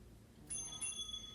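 A single small bell, like a bicycle bell, gives two quick light dings, faint against a quiet room background, marking a change of exercise.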